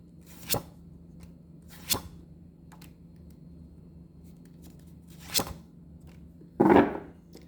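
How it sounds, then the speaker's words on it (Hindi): A tarot deck is shuffled by hand: a few soft, isolated card flicks and taps spaced seconds apart, ending in a brief, louder rustling riffle, close and otherwise quiet. "थोड़ा सा मैं शफल कर लेती हूँ, उसके बाद हम लोग चेक करेंगे।"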